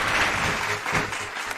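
Crowd clapping at an 8-ball pool match in a pool hall venue, a brief burst of applause that peaks early then tapers off, moderately loud with no talk.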